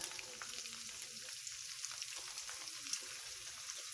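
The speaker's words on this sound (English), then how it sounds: "now we got our pan all heated up. We're going to add our meatballs in there." Meatballs sizzle in a heated pan, a steady near frying hiss with faint pops and no one speaking.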